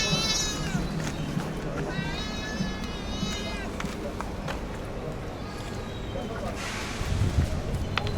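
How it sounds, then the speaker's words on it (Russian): A cat meows several times in drawn-out cries while being fed, close by, while people talk softly in the background with occasional shuffling. "все, Настя, кота покормили"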